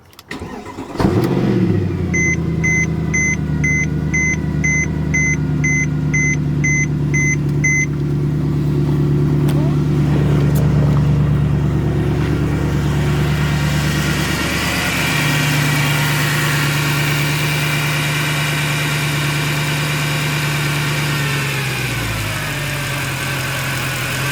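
Mercedes C63 AMG (W204) with the M156 V8 cranks and fires, settling into a steady, loud, smooth idle that holds close by before dropping off near the end, with no talk over it.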